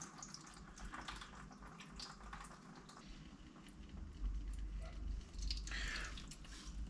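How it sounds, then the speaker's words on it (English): Coolant water drains from the radiator of an Austin Allegro through improvised plumbing, a faint, continuous trickle with small splashes and drips, growing slightly stronger near the end. "draining the radiator is really easy, even with my improvised plumbing here"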